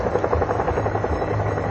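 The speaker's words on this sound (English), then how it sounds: "The Chinooks are lowering the guns, showcasing seamless coordination between the air and land forces" Chinook helicopter flying during a military joint air and land firepower demonstration, a steady loud rotor thrum with pulsing low beats and engine whine, continuous and close throughout.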